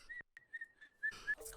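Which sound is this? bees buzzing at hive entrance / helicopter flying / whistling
whistling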